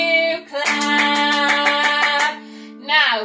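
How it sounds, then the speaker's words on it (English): A steady series of hand claps, about a dozen in a row, sung over by a children's song with prominent melody and voices throughout. "Can you clap, clap, clap?"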